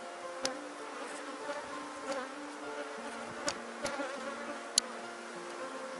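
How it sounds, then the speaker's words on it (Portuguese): A swarm of bees shelters in the shade of a tree, giving off a steady, dense buzz with a few louder passes as single bees fly close by. "Aqui esse enxame, ó, tá numa sombra de uma árvore."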